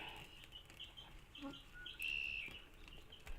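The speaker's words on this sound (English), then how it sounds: "I'm sure you guys can hear the birds and the wind chimes." Faint birds chirp and tweet in the distance through an open window, with one clearer whistled call midway, against a quiet outdoor background.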